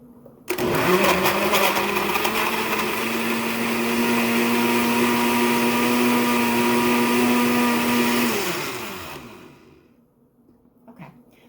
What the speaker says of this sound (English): The lid goes on the blender, and we're going to go ahead and mix it up.